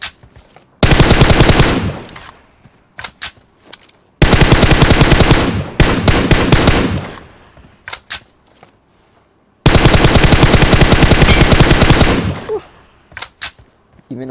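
Automatic gunfire in the PUBG Mobile battle royale game, with three long sustained bursts of rapid loud shots separated by shorter volleys and brief pauses, close and dominant.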